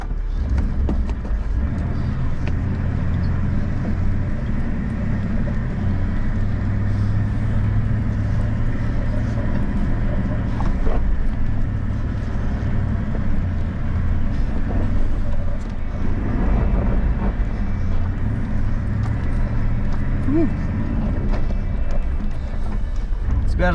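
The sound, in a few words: four-wheel drive vehicle driving on a rough bush track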